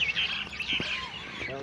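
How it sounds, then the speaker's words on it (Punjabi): At dusk, sparrows chirp in high, busy twittering and crows call as they head home to roost, with a few brief lower calls in between, heard at a moderate distance. "ਚਿੜੀਆਂ ਕਾਂ ਵੇਖ ਲਓ, ਉਹ ਵੀ ਆਪਦੇ ਆਪਦੇ ਘਰਾਂ 'ਚ ਜਾ ਰਹੀਆਂ।"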